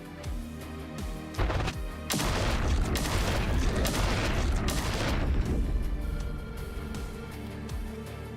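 Heavy explosions in the video game The Last Spell, a dense run of booming blasts and crackling detonations that swells to a sustained loud barrage in the middle and then fades back to a lower rumble.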